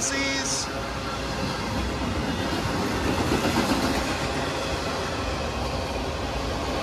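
Florida East Coast Railway freight train led by four FEC locomotives rolling past close by, a continuous loud rumble and clatter of wheels and cars throughout, with a brief high squeal at the start.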